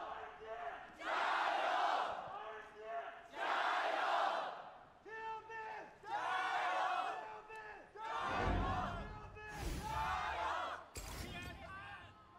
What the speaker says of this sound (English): Already, you can hear the crowd.